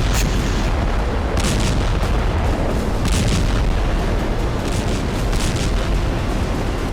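A series of loud, deep booming explosions from Russian bombs, including a thermobaric bomb, in Bakhmut, Ukraine, one after another, with heavy rumbling filling the gaps between blasts.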